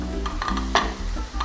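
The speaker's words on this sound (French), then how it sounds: "Je mets un petit peu de vin blanc pour déglacer." White wine hitting a hot pan of shrimp to deglaze it, giving a close, soft sizzle with brief bursts of hissing and light stirring clinks, over a short stretch.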